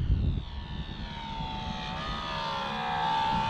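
A 1400mm FMS Pitts model aerobatic biplane sweeps past on a slow, low approach, its electric motor a steady, moderately loud droning whine that rises slightly in pitch toward the end, with no talking.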